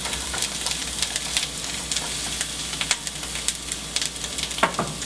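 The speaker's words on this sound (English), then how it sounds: "once the skillet is good and hot, just put the onions in" Chopped onions sizzling in a hot skillet, a loud continuous crackling hiss with frequent sharp pops throughout, heard alone and close.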